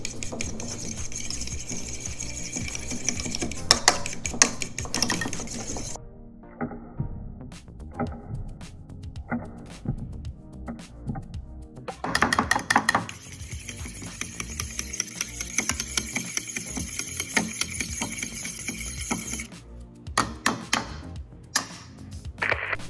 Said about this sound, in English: So we got our Greek seasoning, 3 eggs, a little bit of milk. I'm gonna whisk this baby up here.